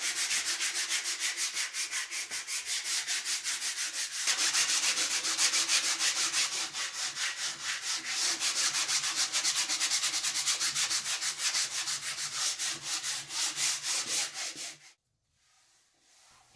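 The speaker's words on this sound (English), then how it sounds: "sand the entire surface with 150 grit sandpaper" Steady rhythmic 150-grit sandpaper strokes rubbing across a flat painting panel, close and continuous for about fifteen seconds before stopping abruptly.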